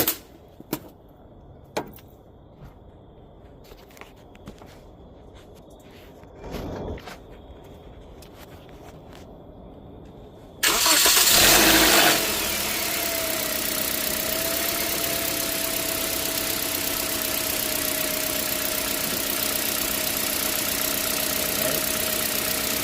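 A Toyota Matrix 1.8L engine cranks and catches after a stretch of quiet clicks and handling noises, flaring loud at startup and then settling into a steady, even idle that runs to the end.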